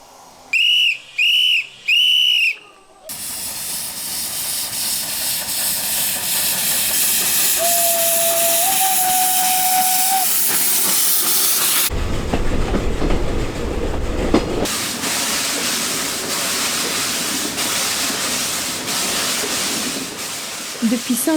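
A steam whistle on the Mastrou steam tourist train departing Saint-Jean-de-Muzols sounds in short blasts, then a steady hiss of steam and a train's rumble build, with a long whistle tone and heavy chuffing continuing.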